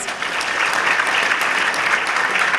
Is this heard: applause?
yes